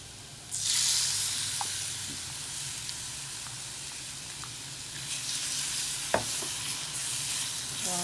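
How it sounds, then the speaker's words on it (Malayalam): Sauce goes into a traditional Kerala-style fish curry in a clay pot, setting off a loud, steady sizzle and hiss that continues under occasional stirring clicks and scrapes. "ഇപ്പോൾ അതിലോട്ട് നമുക്ക് ഈ സോസ് ഇടാം."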